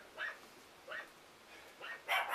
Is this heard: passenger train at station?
no